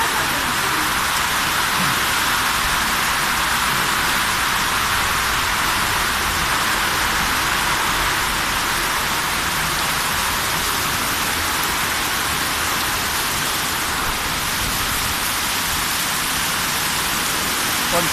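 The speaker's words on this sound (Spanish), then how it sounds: "la voy a bajar bien bajita para que ustedes se den cuenta cómo es que llueve el tiempo" Heavy rain pours steadily onto a flooded neighborhood at night in Yopal, a dense, unbroken hiss of falling water that stays loud and even throughout.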